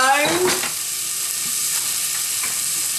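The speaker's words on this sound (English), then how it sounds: "I'm going to fry this onion until it starts to soften" Diced red onion frying in a hot pan with a steady, close, loud sizzle, plus a brief clatter of stirring at the start.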